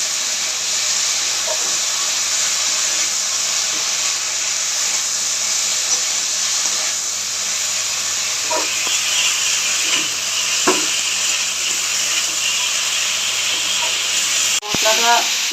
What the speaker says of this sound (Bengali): মশলাটা যাতে কাঁচা গন্ধ না থাকে ততক্ষণ ভেজেছি।